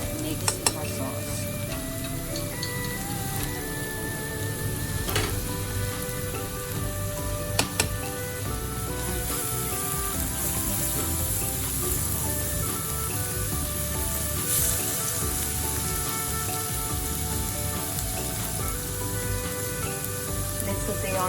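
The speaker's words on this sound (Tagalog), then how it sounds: "Let's put our garlic and let's saute this one." Garlic sautés in a hot pan with a steady, close sizzle and the occasional clink of a utensil stirring against the metal.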